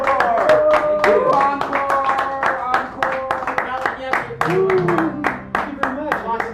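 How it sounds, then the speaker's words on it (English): An open mic audience in a small cafe claps with scattered sharp, uneven hand claps, close and loud, while voices cheer and call out over them. "let's give him a big round of applause."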